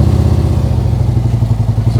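A motorcycle engine held under load while friction braking to a stop, giving a loud, close, steady low throb with a regular pulsing beat and no talking.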